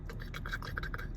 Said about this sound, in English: There's a bit of a rattle coming from the engine.